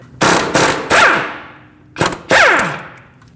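Socket tool loosening the 22mm lower strut support nut on a 2006-2015 Lexus IS250 front suspension: five sharp metallic ratcheting bursts in two groups, close and loud, each ringing out briefly, with no talk.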